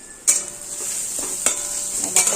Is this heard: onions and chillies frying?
yes